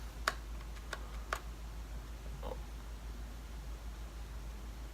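Three or four quick, faint computer keyboard taps while entering a number, isolated clicks over a steady low hum, with no talking.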